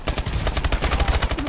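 Call of Duty Advanced Warfare gunfire in a Hardpoint match, a rapid automatic burst of rattling shots fired in a dense, even rhythm, loud and close throughout.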